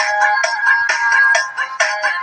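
A siren test tone plays through a repaired M39 horn loudspeaker, sounding loud and close as a rapid, steady train of bright, buzzy pulses repeating about twice a second, with no voices.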